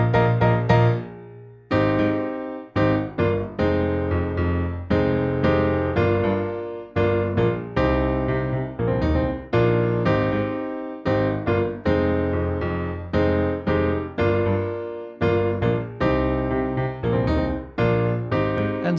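Piano plays the intro of a song as a run of punchy, rhythmic chord stabs with brief gaps, bright and close, for nearly twenty seconds with no voice.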